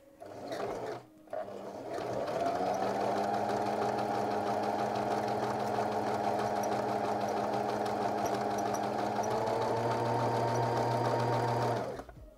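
A sewing machine runs two gathering rows along the ruffles of a garment, its steady motor hum and rapid needle rhythm continuing unbroken for about ten seconds after a brief start and pause, close and alone.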